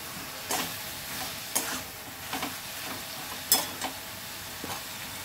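Ginger garlic paste being stirred in a hot frying pan, a steady sizzle broken by several sharp scrapes and clinks of a spoon against the pan, with no talking.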